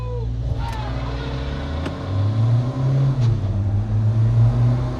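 Mahindra Scorpio N diesel automatic and a tuned Isuzu V-Cross pickup in a drag race, a steady loud engine drone that rises in pitch as the vehicles accelerate, with a voice speaking over it.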